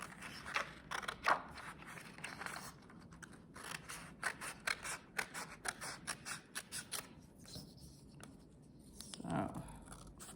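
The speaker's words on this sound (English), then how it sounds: "We're gonna cut out the rectangle, and then we're gonna cut out the part that has the bump on the end." Scissors cut a paper rectangle out in a craft project, giving a quick run of crisp, close snips with short pauses between cuts, fairly quiet and heard alone.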